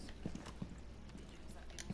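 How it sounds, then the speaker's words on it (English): Faint, irregular footstep thuds in a first-person shooter video game, a few soft steps scattered under background noise and low voice activity. "I heard footsteps"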